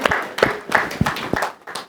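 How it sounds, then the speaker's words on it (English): A small audience at a corporate speaking showcase in Bangalore gives a round of applause, distinct individual claps in an uneven rhythm, close and fairly loud. "Let's give a big round of applause."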